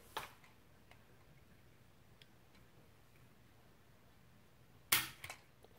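A Hatfield SS12 12-gauge single-shot shotgun has its trigger pulled against a pull gauge. Faint scattered ticks precede a single sharp metallic snap near the end, followed by a couple of small clicks.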